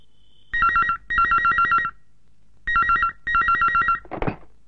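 A telephone rings with two double trills, a pause, then two more, followed by a brief rustle.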